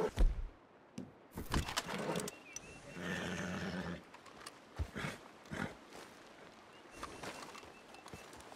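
A horse in the Red Dead Redemption 2 game world whinnies and snorts in a long, wavering neigh around the middle, with scattered thumps and rustling before and after, fairly close and alone without talk.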